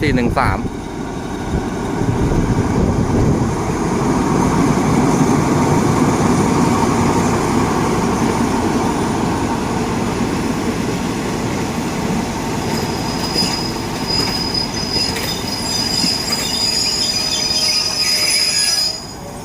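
Passenger train hauled by Alsthom locomotive 4413 rolls past with loud, sustained wheel squeal over a steady rumble lasting the whole run, joined by a piercing high-pitched screech in the latter half before it fades slightly at the end.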